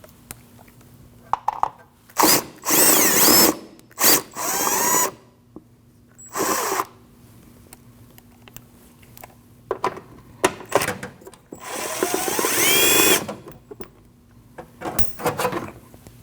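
Power drill whirring in several short and longer bursts while removing three 10 mm bolts from a plastic cover under a 2013-2019 Ford Escape, with quiet gaps and handling noises between runs.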